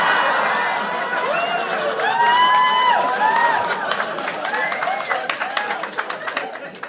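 A comedy club audience in Liverpool claps and cheers loudly, with whoops rising over a dense wash of crowd noise that thins into scattered claps toward the end.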